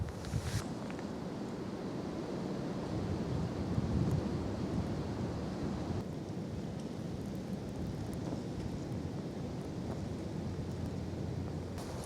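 Gusty wind buffets an outdoor spot on a wet, windy day, a steady broadband roar rumbling against the microphone throughout with a stronger gust near the start and no voices.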